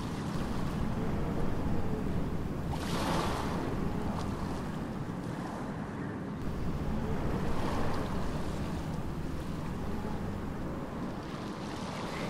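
Open water at Panihati ferry ghat, a continuous wash of river waves and boat rumble with gusts of wind buffeting the microphone, steady and moderately loud with no voices.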